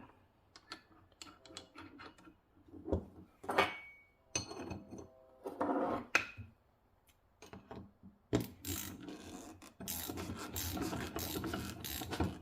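A socket tool tightens the ball joint nut on a lower control arm of a supercharged 2010 Audi B8 S4, heard as close, intermittent bursts of ratcheting clicks and metallic rasping separated by short quiet gaps.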